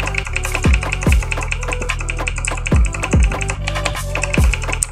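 Keyboard keys clatter in quick, uneven bursts, steady through the clip alongside dense game sounds and low thumps, a mechanical switch board typed on during a KAR98 shooter match with no talking.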